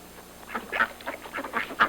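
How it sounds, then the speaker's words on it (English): Ducks on a pond in the Arctic, a string of nasal quacks that grows busier and louder, fairly close, with no voices. "Two youngsters on foot, ducks on the pond"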